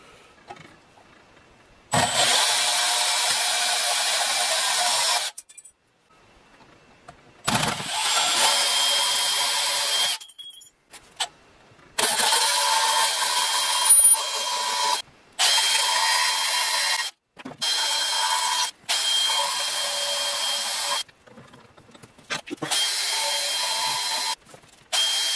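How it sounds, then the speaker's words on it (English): A bandsaw cuts brass stock in a metal-melting workshop, loud and close, in several sustained whining runs of a few seconds each broken by short silent pauses, with no talk. "I'm so glad I got this bandsaw."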